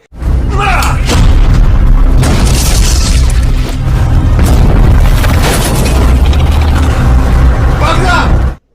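A German anti-tank gun is destroyed in a loud, sustained explosion in a World War II tank battle film, with deep booming rumble and crackling debris filling the whole stretch at full volume, alongside voices.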